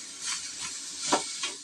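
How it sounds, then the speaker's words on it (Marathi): Grated coconut dry-roasting in a pan for modak filling, stirred in a few short scraping strokes with a faint steady sizzle, close and alone without talk. "खोबरं जरा भाजूनच घ्यायचं."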